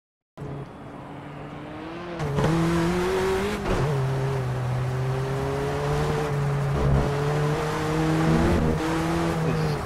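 Simulated Ford Sierra RS500 Cosworth Group A race car at Hockenheim in Project CARS, a steady engine drone rising and shifting as it accelerates and holds speed, loud and continuous with no talk.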